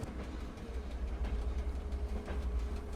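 Small Swedish train running on the rails, heard from inside the driver's cab: a steady low rumble with faint rhythmic clatter and a high running whine, no talk.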